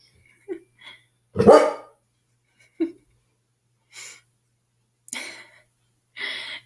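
A guard dog barks sporadically indoors, a handful of separate sharp barks spread out with quiet gaps between them, fairly close by.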